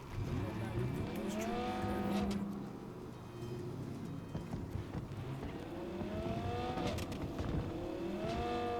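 A vehicle convoy driving past in the video game Cyberpunk 2077, engines revving and rising in pitch as several vehicles sweep by in two waves, with a voice talking over them.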